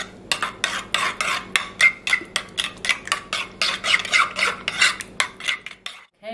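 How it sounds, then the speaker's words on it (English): Harissa paste mixture being stirred in a bowl with a utensil, a quick series of scraping, rasping strokes in steady rhythm, close and fairly loud, with no talking. "I'm just gonna stir this all up really, really well."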